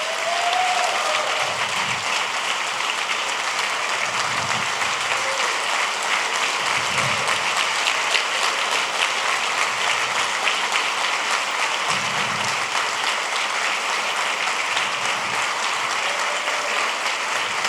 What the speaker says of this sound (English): please, a great round of applause for everyone